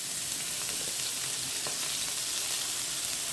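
Chopped onions and green chillies fry in hot oil in a pan, giving a steady, soft, close sizzle with faint crackles and occasional stirring taps, and no one speaking.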